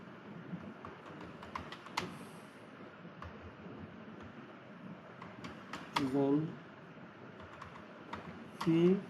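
Computer keyboard typing, light scattered keystrokes at a moderate distance under a person talking, with two louder spoken bursts.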